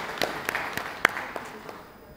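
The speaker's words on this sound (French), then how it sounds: "je vous demande de les applaudir encore une fois." A few people in an audience clap sparsely, giving scattered, separate hand claps at an uneven pace that fade out within a couple of seconds.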